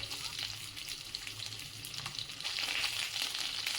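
Stuffed green chillies fry in a pan over low-to-medium heat, giving a soft, steady sizzle and crackle throughout, fairly faint and close with no talking.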